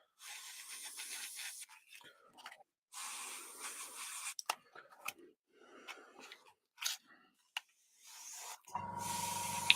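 Brief hissing bursts of air sound in a workshop while a MiniArt Bantam scale model is being built, and then an air compressor kicks in near the end with a sustained, humming motor drone.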